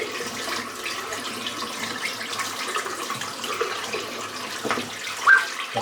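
Hot water runs steadily from a tap, a close, even hissing splash with small fluctuations and a brief louder spatter near the end.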